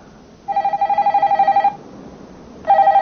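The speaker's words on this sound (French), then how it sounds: "Alors, tu réponds au téléphone?" Close, loud telephone bell rings in a rapid trilling burst of about a second, a pause, then a second ring starting, alone with no talk.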